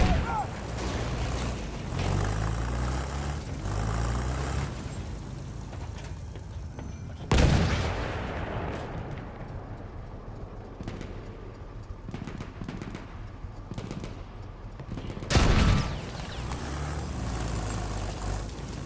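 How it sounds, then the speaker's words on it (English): Machine gun fire in a Battlefield 1 match, heavy continuous rattling bursts over rumbling vehicle and battle noise, with two loud explosive impacts standing out and players talking throughout. "Machine gun, hostile!"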